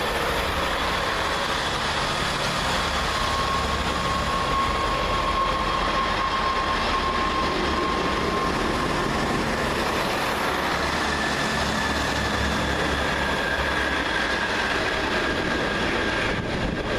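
Transport for Wales class 158 diesel units 158835 and 158824 run through a station in a steady, loud rumble of engines and wheels, with faint tonal whines rising and falling over the passing train.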